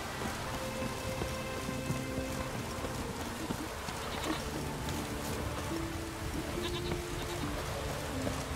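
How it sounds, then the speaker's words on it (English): Heavy rain in the video game Witcher 3 pours down in a dense, continuous hiss, with faint bleating animal calls mixed into the downpour. "Raining fucking buckets."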